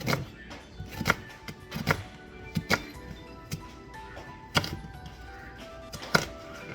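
A knife chops a small fresh onion on a cutting board in a home kitchen, giving irregular sharp taps spaced over several seconds, fairly quiet with soft background noise between strokes.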